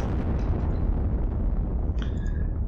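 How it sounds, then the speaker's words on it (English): Artillery fire in the Sealion '40 wargame: a loud, continuous rumbling blast fills the whole clip, ending in a brief high ringing tone. "So let's batter them with artillery."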